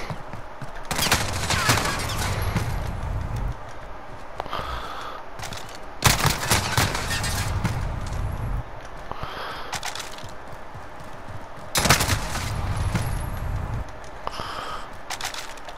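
Rapid bursts of automatic gunfire from the Call of Duty: Modern Warfare video game, three long volleys dense and loud, with quieter gaps between them and occasional breathy player noises.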